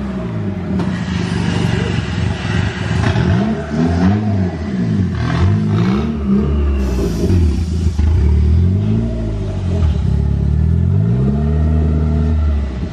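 A tuned turbocharged car engine idles and revs up and down steadily, loud and close, with rising and falling engine pitch throughout and people talking over it.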